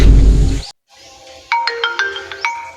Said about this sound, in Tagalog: Ito na. Tumatawag na.